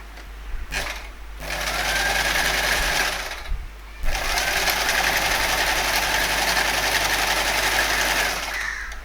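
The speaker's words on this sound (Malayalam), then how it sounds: "ഇത് നമുക്ക് സ്റ്റിച്ച് ചെയ്ത് തുടങ്ങാം" A sewing machine runs steadily, stitching a single piece of cloth to form ruffles, with a brief pause near the start before the loud, continuous whirring resumes and carries on to the end.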